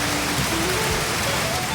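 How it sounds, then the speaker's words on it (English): Heavy rain pours down in Hawaii's Kalalau valley near Hanakoa during a flash flood, a dense, steady, loud hiss of drops hitting surfaces throughout, with no voices. "Rain is just dumping."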